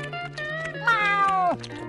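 Gary the snail, SpongeBob's pet in a Minecraft PE SpongeBob addon, lets out a single loud, drawn-out meow that bends downward at the end, over a steady low background melody.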